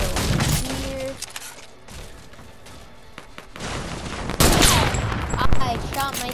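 Gunfire in the video game Fortnite comes as a few bursts of shots with clattering, impact-like bangs. Players talk over parts of it.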